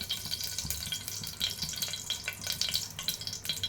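Hot oil sizzles and crackles steadily while tempering spices, a close, busy hiss with small spitting pops throughout.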